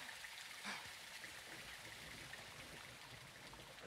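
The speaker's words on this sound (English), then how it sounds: "It's raining fucking hard." Rain pours hard in Call of Duty Modern Warfare 2, a dense steady hiss of falling water with a soft splashy burst near the start, heard alone without voices.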